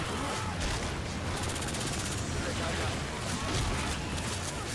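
Sustained machine gun fire in the zombie shooter Left 4 Dead 2, a dense, unbroken rattle of rapid shots with booming impacts, loud and constant throughout.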